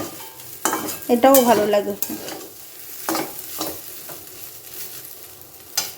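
Fried rice with potato, egg and onion is stirred in a pan with a utensil, giving soft scraping and light sizzling in short bursts, with a brief voice early on.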